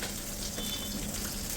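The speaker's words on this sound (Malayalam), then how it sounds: "അടുക്കളയിൽ ചിക്കൻ വറുക്കലൊക്കെ ആയി പരിപാടി നടന്നുകൊണ്ടിരിക്കുകയാണ്" Chicken frying in a pan in a home kitchen, a steady close sizzle that hisses evenly throughout with no voices over it.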